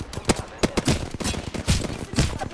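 Apex Legends Spitfire light machine gun fires in a steady rapid stream of sharp, loud shots, the rounds pounding in a regular rhythm at close range with no pause.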